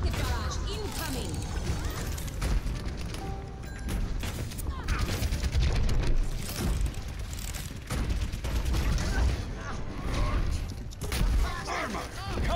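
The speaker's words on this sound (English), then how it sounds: "Rocket barrage incoming!" Overwatch rocket barrage in a video game battle: dense, continuous bursts of rapid explosive firing and mechanical clatter fill the whole stretch, loud and busy with layered impacts and game voice callouts mixed in.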